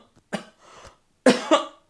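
A person coughs several times in short, close bursts, with brief pauses between the harsh coughs.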